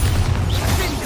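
Bombarda blasting spell from the Hogwarts Legacy video game going off in a catacomb, a loud, deep rumbling boom that fills the whole moment with low, sustained energy and no voices.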